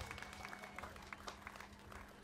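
A crowd at a fireworks festival applauds parade sponsors. The clapping is faint and scattered and carries from a distance, with no one speaking.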